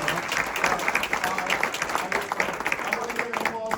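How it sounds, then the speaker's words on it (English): An audience at a talk on planning a Catholic funeral applauds, a dense, steady patter of many hands clapping at moderate loudness that thins slightly toward the end. "Can we have a applause for Marietta and Melissa?"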